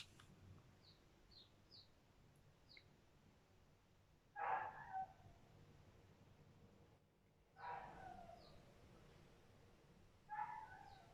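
A dog barks outdoors at a distance, in three short bursts spaced a few seconds apart over a faint, steady background.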